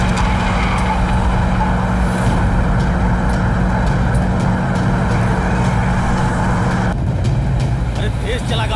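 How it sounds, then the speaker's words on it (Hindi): A car races along fast during an action-film chase, a loud, steady engine roar with rushing road noise that shifts near the end, close and continuous. "जल्दी से भरतपुर की तरफ चलो। हम लोग यहीं पर आपका इंतजार कर रहे हैं, जल्दी से आ जाइए। हाँ हम जल्दी आते हैं। गाड़ी तेज भगाओ।"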